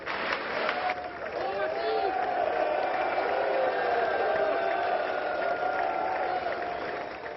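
Lawmakers at the US Congress cheer and applaud as the Prime Minister walks in, a dense, sustained roar of crowd noise and clapping throughout, with voices mixed in.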